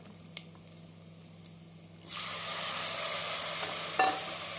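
Quiet clinks and scrapes of a spoon in a pan, then a steady loud sizzle as onion and tomato hit the hot oil, with a brief metallic tap near the end.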